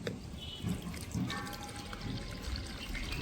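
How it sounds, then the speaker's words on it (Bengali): Grated watermelon juice strained through a sieve, a soft, close trickle and dribble of liquid running steadily for a few seconds, with no talk. "এবার একটা ছাঁকনি দিয়ে আমি ছেঁকে নেবো"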